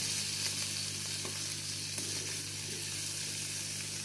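Potatoes crisping in hot oil for sabudana khichdi on a medium gas flame give a steady, close sizzle with a constant low hum underneath and a few soft stirring knocks.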